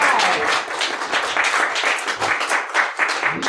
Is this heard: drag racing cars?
no